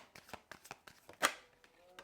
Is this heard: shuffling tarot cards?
yes